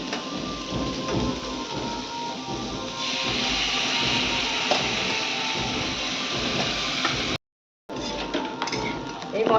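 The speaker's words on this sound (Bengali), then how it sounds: "এই মশলা দিয়ে আমি আলুটাকে কষিয়ে নেব" Potatoes are stir-fried with spices in oil in a pan, making a loud, continuous broadband sizzle with faint scraping. The sound cuts out briefly near the end, then resumes.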